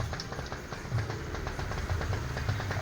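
A bored-up Yamaha Mio Smile scooter engine runs on a test start, giving a steady, close, rapid putter with rhythmic mechanical clatter and no voices.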